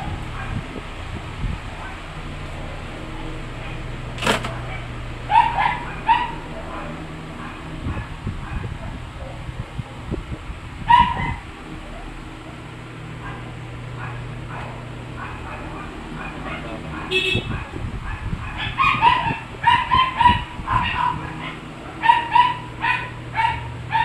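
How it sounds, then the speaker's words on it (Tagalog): Many dogs barking and yipping together at a house, scattered sharp barks on and off throughout, some near and some farther away, over a steady background hum with someone talking at times. "Ang daming aso guys, nagkakahula."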